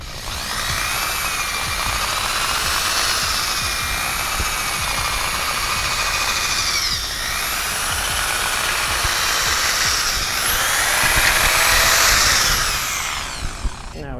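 Power drill boring through a scooter deck and its grip tape, a loud continuous whine that dips and rises in pitch as the bit loads up, running close and uninterrupted.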